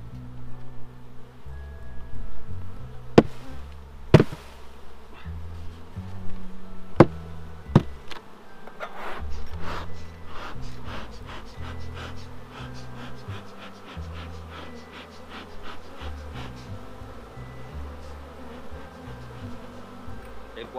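Dense, steady buzzing of many honey bees at an open, strong beehive, close and continuous, with scattered taps and clicks of hive frames being handled.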